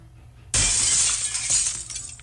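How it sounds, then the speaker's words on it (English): A glass window shatters in a sports video game after a golf shot, a sudden loud crash followed by a bright, sustained spray of breaking shards that slowly thins out over a couple of seconds. "That was glass shattering. I think we may have just broken a window."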